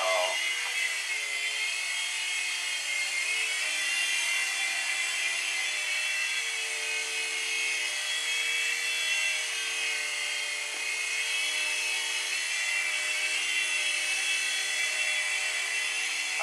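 A Litehawk Mini 3-channel RC helicopter flies nearby, its rotor and small motor holding a steady, high-pitched whine that runs continuously without break.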